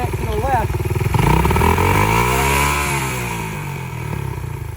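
A 1981 Honda XL125s motorcycle engine revs up and falls back as a too-tight throttle cable is pulled when the handlebars turn left, a close, loud rising and falling engine tone mixed with someone talking.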